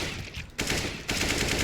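Rapid automatic AK fire in Valorant, dense bursts of shots in quick succession with a brief gap between two strings, loud and close.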